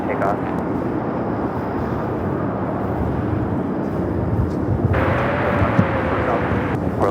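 A jet airliner departing runway 25 right at LAX, a loud continuous broadband roar of engines at takeoff power, steady throughout with a slight rise toward the end.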